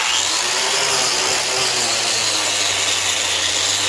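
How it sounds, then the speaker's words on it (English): Angle grinder working a welded joint between cast iron and steel on a hub, a steady loud continuous whine with no pauses, close by and without any speech. "Now let's hit it with the grinder."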